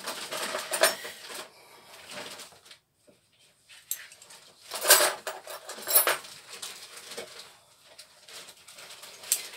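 Small metal spoons bought online clink and rattle together in bursts at close range, with quiet gaps between handfuls and a bird cooing faintly in the background.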